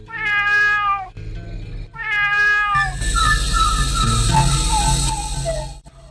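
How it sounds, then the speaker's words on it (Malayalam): Thin, high cat-like wails rise and fall in two drawn-out cries, then a softer whining continues over a low hum. "നിലക്കണ്ണാടിയുടെ തെളിഞ്ഞ പ്രതലത്തിൽ നിന്ന് പൂച്ച കരയും പോലെ ഒരു നേർത്ത ശബ്ദം എന്റെ കാതിൽ വന്നടിച്ചു"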